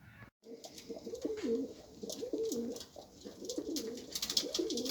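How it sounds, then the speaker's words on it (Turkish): Repeated low, throaty coos from a female pigeon about to lay eggs, in a steady rolling rhythm, close by, with faint rustling and light background noise between calls. "Yumurtlayacak güvercin böyle olur"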